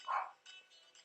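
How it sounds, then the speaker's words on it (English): A single dog gives one short, faint bark, followed by a few softer yips, heard at a distance in a quiet room. "Why is my dog barking?"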